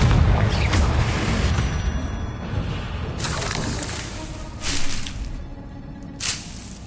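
A Confringo fire spell blasting in the Hogwarts Legacy game: a low, rumbling whoosh that swells over the first seconds, followed by a couple of brief, bright bursts of impact, loud and close.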